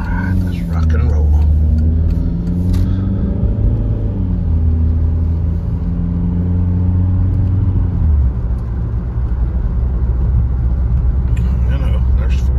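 A 2005 VW Jetta MK4 TDI diesel pulls away on a highway with a steady, droning engine hum and road rumble, rising gently in pitch as it gains speed, heard from inside the car throughout.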